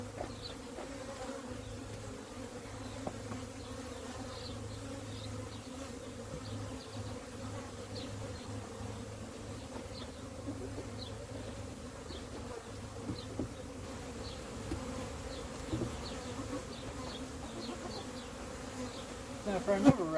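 Honeybees hum in a steady, dense drone from an open hive during a spring inspection, close and continuous throughout, with faint scattered clicks and light handling noises and no talking.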